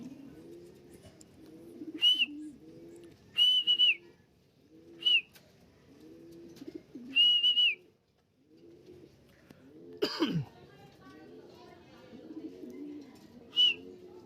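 Racing pigeons coo in a soft, repeated rhythm at a loft, with short high whistles and chirps over the top and one sharp clatter near the end.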